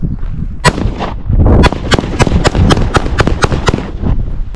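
Real guns fire outdoors in a rapid, loud series of about a dozen sharp, booming shots, close to the listener, with a heavy rumble between bursts.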